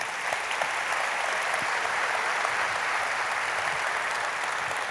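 Sustained applause from a church congregation fills the room, a dense, steady wash of clapping at constant loudness with no voices on top.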